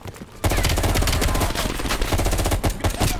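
Rapid automatic gunfire from the video game Call of Duty Cold War, loud close bursts that start abruptly after a short quiet moment and rattle on continuously with brief dips.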